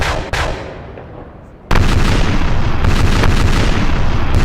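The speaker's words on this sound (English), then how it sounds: "Serious cannon fire." Warships fire heavy cannon broadsides in the Napoleon Total War naval battle game: a sudden loud, sustained barrage of overlapping booms after a quieter opening with a single distant thud.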